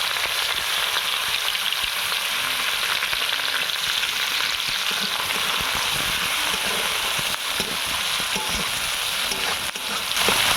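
Four finely chopped onions go into a hot frying pan for a fish masala curry, setting off a loud, close, unbroken sizzle with occasional stirring rustles and no voices.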